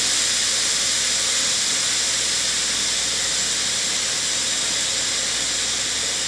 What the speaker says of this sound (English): let all the steam out.